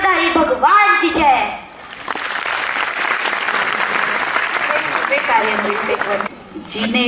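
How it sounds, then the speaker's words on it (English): An audience claps steadily after a school dance performance at an annual function, a dense, sustained wash of applause from a large crowd running about four seconds, with speech before and after. "Big round of applause to Aryan."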